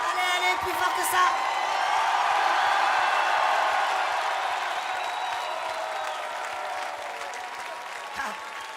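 A huge arena crowd at a concert in Bercy, 2010, bursts into loud sustained applause with whoops and shouts, a dense roaring clap that swells early and stays strong before easing slightly.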